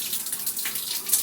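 Tap water runs steadily while Design Essentials peppermint shampoo is rinsed out of hair, a close, continuous splashing hiss with no voices.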